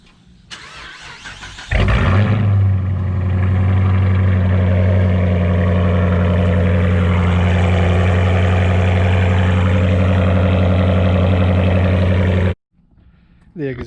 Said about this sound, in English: Go ahead and give you a cold start.